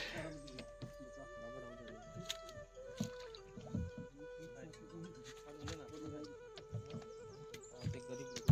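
A boat crossing the Narmada river, its rowing and water sounds carrying over steady talk nearby and a low constant hum throughout.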